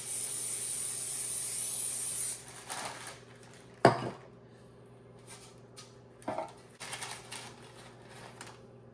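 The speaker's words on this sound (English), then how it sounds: "let me spray this pan" A sustained hiss of aerosol cooking spray coating a baking pan for about two seconds, followed by clanks and knocks of the metal pan being handled.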